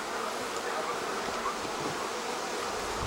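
A dense, steady drone of many honeybees buzzing close by during a brood check of nucleus colonies, continuous and fairly loud throughout with no pauses.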